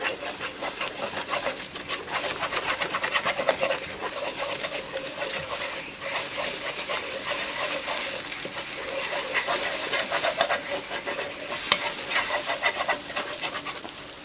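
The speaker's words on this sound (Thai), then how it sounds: "แล้วผัดให้ไข่สุกนะ ให้ไข่สุกแล้วก็ทั้งหมดก่อนนะคะ" Eggs are stir-fried in a pan for a keto Chaiya vegetable dish. A dense, continuous crackling sizzle fills the whole stretch at a fairly even level, close and without speech.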